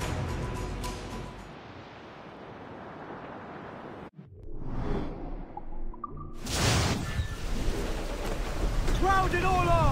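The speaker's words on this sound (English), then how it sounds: "Storm, Captain! Looks bad!" Thunderstorm at sea in the pirate video game Assassin's Creed IV: Black Flag, with rumbling thunder, wind whooshes and rain mixed with game sounds, rising into louder crashing noise in the second half.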